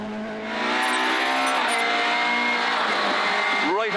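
A Ford Escort rally car races on tarmac in Irish rally championship action, heard from inside the car as a loud, high revving engine with rising and falling gear changes, and a voice talks over it.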